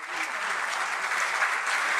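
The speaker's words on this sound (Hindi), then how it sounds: "तो भरपूर तालियां उस्ताद रियाज अली खान साहब के लिए" Audience at a music circle lifetime achievement award ceremony giving sustained, full applause for Ustad Riaz Ali Khan, dense clapping with no gaps across two seconds.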